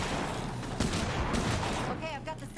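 Shotgun fire in the video game State of Decay 2, loud close blasts in a dense, rumbling mix with a burst of electronic tones near the end.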